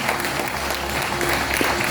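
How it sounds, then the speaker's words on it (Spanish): Church congregation applauding during a service, a dense burst of clapping filling the space, loud and steady with a low hum beneath. "Vamos a darle un fuerte aplauso a Dios por esta palabra."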